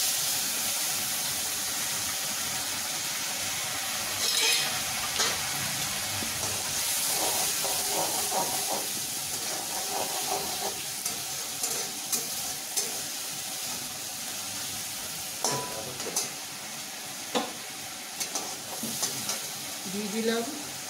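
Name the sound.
ginger garlic onion paste frying in oil for fish kalia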